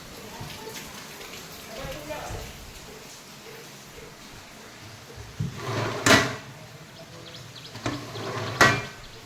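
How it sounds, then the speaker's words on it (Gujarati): Steady rain falling in a village during a long afternoon downpour, a soft continuous hiss broken by a few sharp knocks and thumps nearby. "વરસાદ 4 વાગ્યાનો ચાલુ છે"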